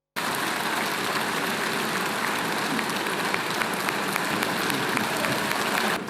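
Sustained applause from an assembled audience at a formal government announcement, a dense, even roar of clapping that starts abruptly, holds steady and stops abruptly.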